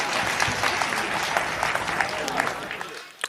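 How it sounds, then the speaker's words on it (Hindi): Audience at a Hindi kavi sammelan poetry gathering claps steadily for about three seconds, a dense, close burst of applause that tapers off at the end, with some voices mixed in. "एक बार फिर ताली बजा दीजिए उसके नाम।"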